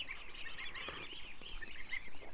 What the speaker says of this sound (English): I'm getting eaten by ducks, guys.